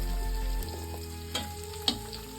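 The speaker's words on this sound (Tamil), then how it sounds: "இப்ப நான் வெங்காயம் சேர்த்துக்கிறேன்" Sliced onions hit hot oil with frying garlic for mint chutney, a steady loud sizzle that settles after a moment, with a couple of brief stirring clacks from a utensil, close up and with no talk.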